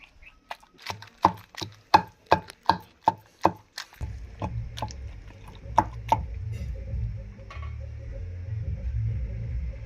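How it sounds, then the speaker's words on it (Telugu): Roasted tomatoes are pounded for a village-style chutney in a stone mortar with a pestle. About eight sharp, evenly spaced thuds come close and loud, then a few scattered strikes sit over a low rumbling background. "విధంగా అన్ని టమాటాలు కూడా దంచుకోవాలా"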